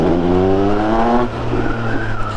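A Triumph Speed Triple 1200 RS motorcycle fitted with a Pro-Race GP-R3R exhaust roars loud and close, a steady high-pitched engine note that drops in pitch partway through, with no talking.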